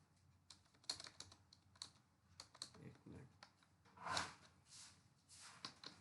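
Typewriter typing practice, a faint run of irregular key strikes and clicks in uneven bursts, with a busier cluster of keystrokes toward the end, no speech.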